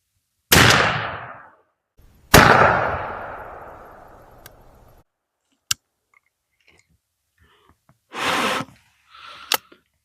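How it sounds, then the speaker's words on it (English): A New England .410 shotgun firing Remington Express XLR #4 shot loads at a bullseye target outdoors: two loud sharp blasts with decaying reverb, followed by a few light clicks and a brief rustle. "Let's shoot these number 4s at them and see what they do out of this New England."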